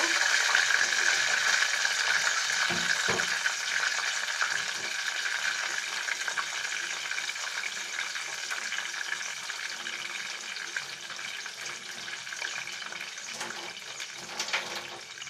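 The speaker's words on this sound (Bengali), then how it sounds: "এখন শিং মাছটা খুব ভালো করে নেড়ে নিব" Stinging catfish roe frying in oil in a pan gives a steady, fairly quiet sizzling hiss, with a few scraping stirs near the start and a faint voice at times.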